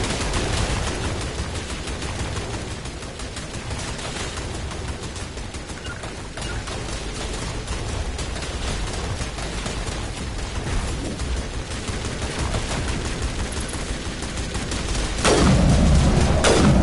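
Continuous gunfire in the Mass Effect video game, from the Ilos mission, with dense overlapping volleys and bursts that keep up throughout and swell into a heavier, louder boom near the end.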